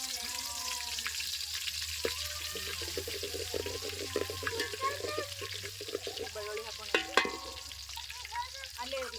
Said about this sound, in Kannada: ಈಗ ನೋಡ್ರಿ ಇದಕ್ಕೆ ಬೆಳ್ಳುಳ್ಳಿ ಹಾಕೊಳತ್ತೀನಿ ಎಣ್ಣೆ ಬಿಸಿ ಆಗ್ಯದ